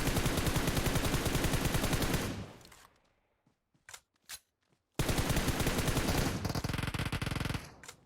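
Fortnite match gunfire: a long loud rapid automatic burst that fades out, a near-silent gap with a few isolated shots, then another heavy sustained volley of fast repeated shots.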